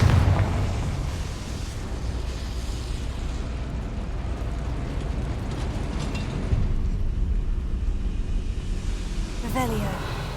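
Confringo spell explosions in the Hogwarts game, heard as a continuous, loud, broadband blasting roar with rumbling bursts throughout and a sharper crackle near the end.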